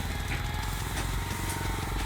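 An old-style engine on a walk-behind tractor runs steadily while plowing, a close, continuous chugging drone with rapid regular firing pulses and no speech.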